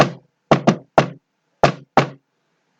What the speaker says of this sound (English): raps a staccato rhythm on the door